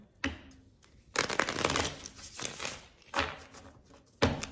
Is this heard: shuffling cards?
yes